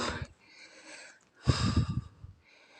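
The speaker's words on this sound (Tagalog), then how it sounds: "Humihingal-hingal ako ng konti." Heavy panting breaths inside a cave: a few breathy exhalations and sniffs, then a rough burst of ragged breathing, close and loud, with short pauses between.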